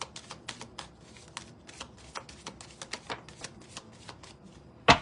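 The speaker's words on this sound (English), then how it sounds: "I shuffled. You saw me shuffle." Tarot cards are shuffled in a rapid run of crisp riffling snaps and flutters, close and clear with no talking, ending in a sharper slap as the deck is squared.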